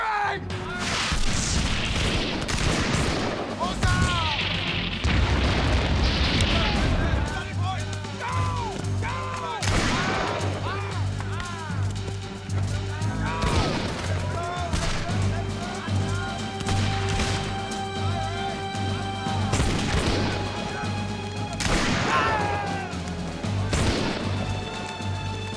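A period siege with soldiers firing on command, heavy gunshots and booming blasts ringing out repeatedly, loud and reverberant, with shouting voices mixed in throughout.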